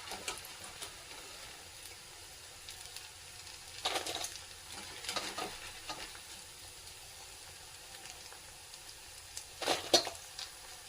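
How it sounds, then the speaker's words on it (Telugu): Battered cauliflower for gobhi 65 fries in a pan with a soft continuous sizzle, broken by a few louder crackling bursts and stirring sounds. "మనం అన్ని పిండి కలుపుకున్నాం కాబట్టి ఈ కలర్ వచ్చే వరకు ఫ్రై చేసుకోవాలి."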